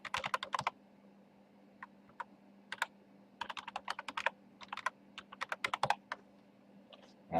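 Keys on a computer keyboard tapped out in short irregular bursts while a password is entered, close and clear, with brief pauses between clusters of keystrokes and no talking.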